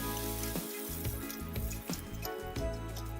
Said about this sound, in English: Now that these are crisped up, I'm going to reduce the heat a little bit and use a slotted spoon to take the pork belly out